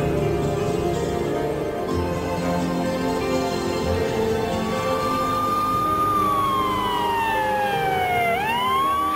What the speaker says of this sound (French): elle entend des sirènes à l'extérieur